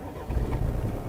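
A 2020 Cadillac CT5 2.0T gasoline engine restarting via its stop-start system, a brief low rumble swelling up inside the cabin, moderately loud amid a steady background hum.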